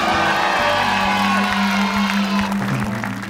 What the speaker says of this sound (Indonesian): Mari kita berikan sambutan dan tepuk tangan pemirsa.